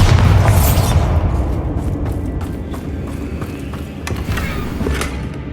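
A Bombarda spell blast in Hogwarts Legacy, a loud deep booming explosion up front that rolls into rumbling, creaking debris and scattered crackles as it fades, with no voices.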